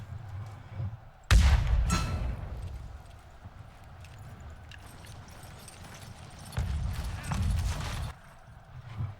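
Cavalry horses charge in a war game with a rumble of massed hooves in two bursts, alongside sharp gunshot-like cracks and low booms.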